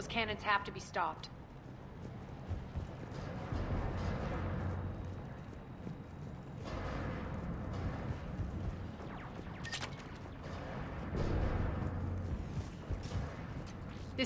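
Cannons fire in the PC video game Mass Effect 3 as deep, dull booms at a distance. Several low rumbling blasts recur over about fourteen seconds beneath other in-game sound.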